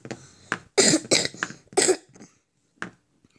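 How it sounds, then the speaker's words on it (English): Several dry coughs from a person with a cold, close and loud, with short throat-clearing bursts in a few separate fits and then one last small cough after a pause. "did I really expect a cough?"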